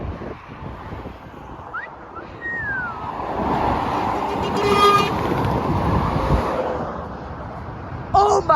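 A Volvo truck passes on a UK road, its rumble swelling under steady traffic noise while a rising tone and then a brief horn blast sound near the passing peak, with a short honk at the end.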